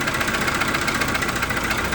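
A Volvo 940 drift car engine idles steadily, a loud, close, continuous mechanical drone with an even rhythmic pulse and faint knocking texture, with no other sounds.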